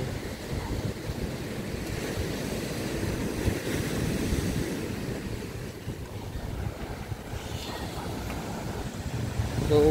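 Ocean waves rolling steadily at sea beside a fishing boat, a constant broad wash of surf with gusting wind buffeting the microphone throughout, no clear voices.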